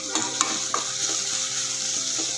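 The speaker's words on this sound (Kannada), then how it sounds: "ಈ ಥರ ಎಣ್ಣೆ ಹಾಕ್ಕೊಂಡು ಉರಿತಾ ಇದ್ದೀವಪ್ಪ" Ingredients frying in oil in a pan, a continuous close crackling sizzle with a few sharp stirring clinks, no voices.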